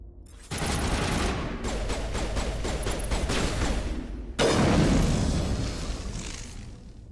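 Rapid automatic gunfire and explosive booms in the video game Mass Effect Legendary Edition, a dense continuous barrage that briefly drops and then surges louder, with no talk over it.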